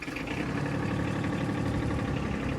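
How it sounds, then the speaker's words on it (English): A Kubota tractor engine runs at a steady, loud, close idle, with an even mechanical rumble throughout and no voices. "Obviously turn the key to start the tractor."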